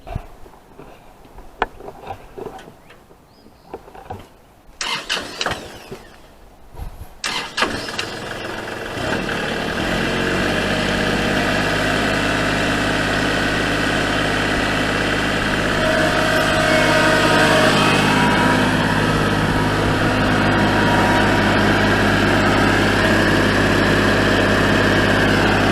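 A tractor engine cranks with a few sputters and clatters, catches, then settles into a steady, loud, low idle rumble that continues for the rest of the stretch.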